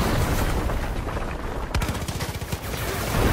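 Rapid bursts of gunfire crack out close and loud, a quick volley of shots followed by a few scattered rattling rounds, with no one talking.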